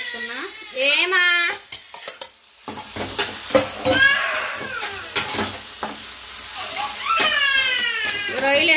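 Prawns cooking in a tomato curry in a pan, with a steady sizzle, spoon stirring, scraping and knocks against the pan, while a voice talks over much of it.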